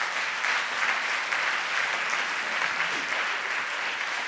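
Steady, dense applause fills an award ceremony hall, many hands clapping at an even level throughout the short stretch with no voices above it.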